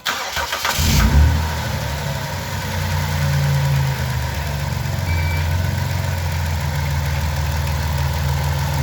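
A car with an overheating engine cranks briefly, catches and settles into a steady, close, rumbling idle that continues without any talking.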